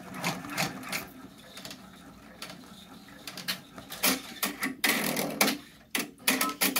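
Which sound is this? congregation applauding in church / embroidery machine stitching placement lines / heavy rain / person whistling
embroidery machine stitching placement lines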